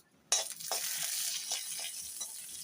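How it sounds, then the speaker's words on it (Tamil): Urad dal drops into hot oil where mustard seeds have already popped, bursting into a sudden loud sizzle after a brief silence, then a steady crackling fry with a few light stirs, close up and without talk. "உளுந்து சேர்த்து நல்லா வறுத்துடலாம்"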